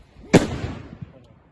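A single sharp Exploder 5 firecracker bang, loud and close, followed by a brief rumbling tail and a smaller pop fading out.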